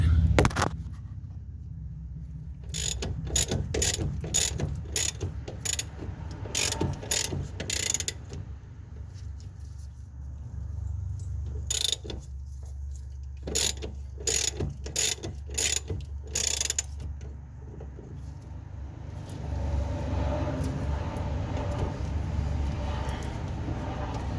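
A ratchet loosens a bolt on a BC Racing rear coilover on a Mazda RX-7 FD3S, with close, sharp clicking bursts in rapid runs separated by pauses, then a steadier mechanical rumble near the end.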